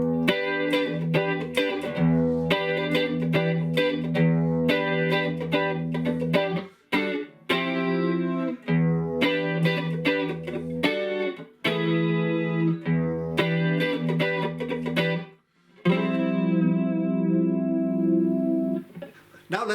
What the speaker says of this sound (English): In the clean setup with an El34 and Fender Strat,